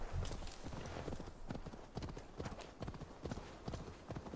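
Horse hooves clip-clopping in the video game Assassin's Creed Valhalla, a steady rapid trotting rhythm of hoof falls, fairly faint and continuous throughout.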